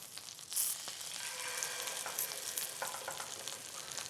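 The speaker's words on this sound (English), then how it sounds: "Quick dip in the egg. Then right into your pan." Flour-and-egg-coated chicken cutlets for chicken francese sizzle and fry steadily in a pan, a continuous bright crackle starting sharply and holding close and fairly loud, with no talk.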